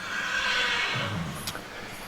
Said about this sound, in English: You might be able to hear the horses in the background.